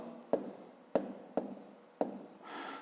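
Pen writing numbers by hand on paper during a fifth-grade maths exercise, four short scratchy strokes in an even rhythm, close and quiet.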